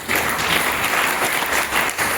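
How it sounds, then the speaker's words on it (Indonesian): Congregation applauding during a church service in Papua, dense, steady clapping from many hands filling the room for about two seconds. "Tepuk tangan bagi Tuhan Yesus."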